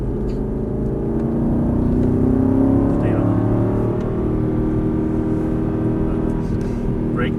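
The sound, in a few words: car accelerating out of a corner on throttle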